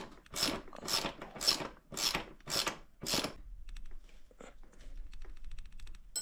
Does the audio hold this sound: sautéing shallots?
no